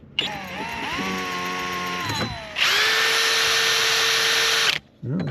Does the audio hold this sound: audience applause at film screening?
no